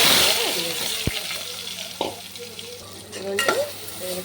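Mustard seeds frying in hot oil in a pan, a light crackle and sizzle punctuated by a few sharp clinks and scrapes of a stirring utensil against the pan.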